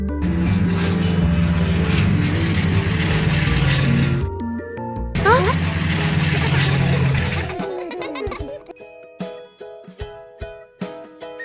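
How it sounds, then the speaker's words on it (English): A cartoon toy airplane drones like a propeller aircraft engine in a sustained loud buzz with a brief break, then fades into scattered tinkling and knocking sounds. "A toy airplane starts to operate."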